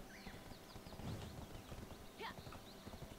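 Galloping hooves of a tier 5 horse sprinting in Black Desert Online, a steady fast clip-clop rhythm close up, with a brief whinny partway through.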